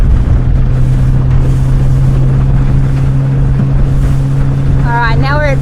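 Highfield 380 Sport motorboat crossing its own wake on open water, with a loud, steady engine drone and heavy wind buffeting the microphone. A brief voice comes in near the end.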